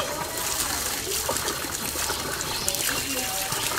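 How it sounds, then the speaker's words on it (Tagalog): Spring water trickles and flows steadily at an outdoor camp challenge valley, a continuous close splashing wash with faint voices and activity in the background. "Naiinom po ang tubig na yan kasi bukal yan eh"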